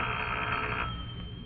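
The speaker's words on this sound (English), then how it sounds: "It was quite dark when the call came through." A telephone rings in a dark room, a steady sustained bell tone that runs for over a second with no voices present.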